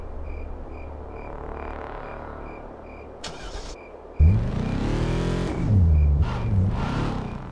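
A car engine in Alone in the Dark (2008) cranks and catches after being hotwired, then revs up loudly in two or three rising surges, close by, over a steady low rumble with no talking.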